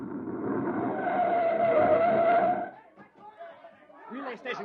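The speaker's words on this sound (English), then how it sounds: "There's a recon car coming up." Recon car approaching and skidding to a stop, a radio drama sound effect: a loud engine roar with a screeching tire whine for a few seconds, then fading into quieter rumble as a voice begins speaking.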